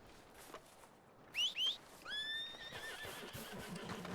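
A horse in the Red Dead Redemption 2 video game lets out a couple of short high squeals, then a longer whinny, fairly faint over a low outdoor background with no talk.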